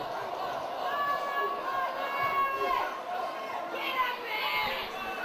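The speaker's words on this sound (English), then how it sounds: "listen to this crowd chanting Ulf in unison" A wrestling crowd at a 1PW UK event chants in unison, a rhythmic, swelling chorus of many voices heard at a distance under the near, excited talk of a commentator.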